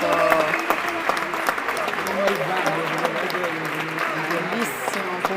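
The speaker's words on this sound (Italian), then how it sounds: "arrivano anche gli applausi da tutto il pubblico" A padel tournament crowd applauds after a point with sustained clapping that fills the space, while a commentator talks over it.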